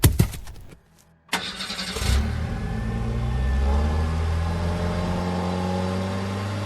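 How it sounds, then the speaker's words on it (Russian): A car engine cranks and catches after a short gap, then settles into a steady rumbling idle that builds as the car pulls away, loud and close with no talk. "Дай Санспоту отвезти машину в гараж"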